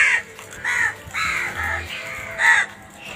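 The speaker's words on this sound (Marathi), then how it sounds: "सगळेजण कावळे इथे जमलेले आहेत माझ्या पाठीमागे, तुम्ही बघू शकता" Jungle crows caw repeatedly at a hill-station spot, several harsh calls overlapping close by in uneven bursts with no talk.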